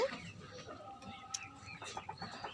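Chicks and ducklings peck at kelakuch leaves and grass, giving off faint, scattered soft clucks and peeps close by, with light rustling and no talk.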